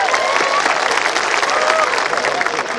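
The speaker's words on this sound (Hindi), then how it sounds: "तालियां बजनी चाहिए यार" Audience applause at an all-India Hindi comedy poetry gathering in Nanded sounds as a dense, loud, continuous wash of clapping with some crowd voices and cheers mixed in throughout.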